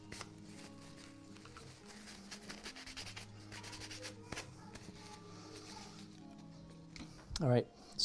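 Paint brushes being scrubbed clean, a quiet close rubbing and bristle scratching in irregular strokes, with a sharper squeak and clatter near the end.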